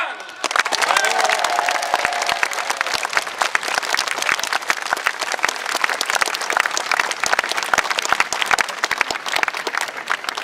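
A large outdoor crowd at a medieval wool fair claps steadily and loudly for an Uzbek horseman, dense applause with some cheering running through the whole stretch.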